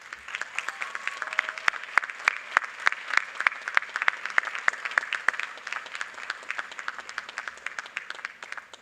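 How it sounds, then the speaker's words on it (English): Applause from a large audience at a spring 2025 university undergraduate commencement, dense crisp clapping sustained throughout, heard from some distance with no talk over it. "please stand and give all those who helped you get to this moment a round of applause"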